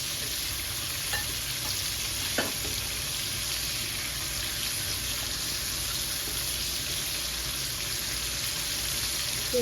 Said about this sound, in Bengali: এই মাছটা অলমোস্ট ভাজি হয়ে এসেছে